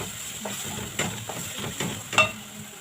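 Onion and garlic fry in a pan for an okra dish, with a soft steady sizzle broken by several stirring scrapes and one sharp clink near the end.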